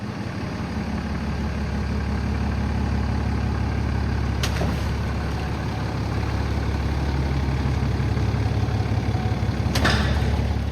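A diesel truck cruises at full operating temperature, its heavy engine droning low and steady up close, with two sharp hissing bursts, like air brakes, cutting in along the way.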